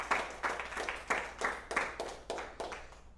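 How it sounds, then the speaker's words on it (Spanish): A church congregation clapping together in a steady rhythm, about seven bursts of hand claps at regular intervals, moderately distant and fairly quiet. "Denle un aplauso al Señor."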